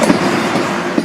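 A train rolls along railway tracks in Bosnia, heading to Sarajevo, with a close, steady rumble and a couple of brief knocks, and no voices.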